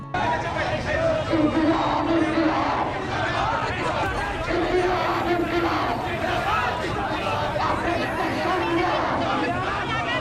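Crowd chanting slogans at a July political rally in Kushtia, Bangladesh, a loud steady mass of voices shouting in rhythmic calls over continuous outdoor crowd noise.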